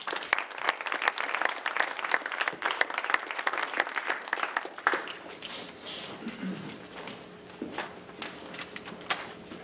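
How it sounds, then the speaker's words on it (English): A live audience applauds warmly as presenters of a cider startup are welcomed onstage at an entrepreneurial challenge final, a dense sustained patter of many hands that gradually thins out. "Give them a round of applause, you guys."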